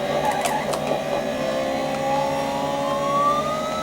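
A motorbike's nitrous boost in Road Rash on the Panasonic 3DO, heard as a steady buzzing engine whine rising in pitch, with a few brief clicks at the start.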